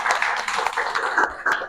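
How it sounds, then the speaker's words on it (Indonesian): Schoolchildren in a classroom clap together in a short burst of brisk, uneven applause, close and fairly loud, fading out at the end. "Tepuk tangan anak sekalian."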